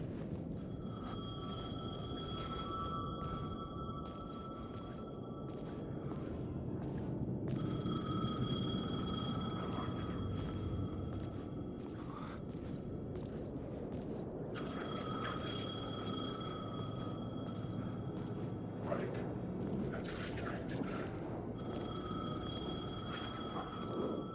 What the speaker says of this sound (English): payphone was ringing